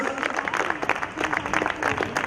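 A crowd claps and cheers continuously, loud and dense, at the opening of a kids' team tournament.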